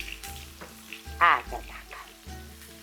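Lean makalo frying in a well-heated pan over low heat, giving a steady close sizzle with a brief burst of louder crackling midway and a short spoken phrase on top.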